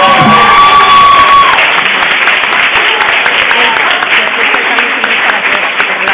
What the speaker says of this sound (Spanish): que pide un fuerte aplauso.